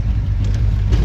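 A fast 1984 Chevrolet Monte Carlo drives along a road, its engine giving a steady, loud, close-up rumble that lasts for a brief moment.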